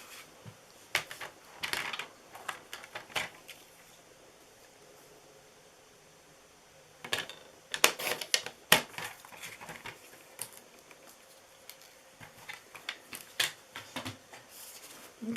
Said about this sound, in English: So let me grab my trimmer.